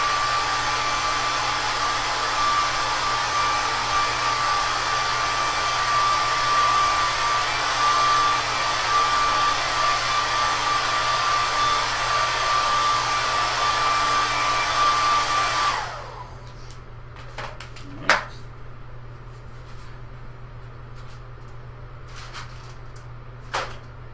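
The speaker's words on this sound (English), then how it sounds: "Grab my hair dryer so this goes by a lot faster." A hair dryer roars steadily at close range, then switches off, leaving a quiet room with a couple of faint knocks.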